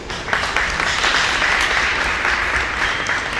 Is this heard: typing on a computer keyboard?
no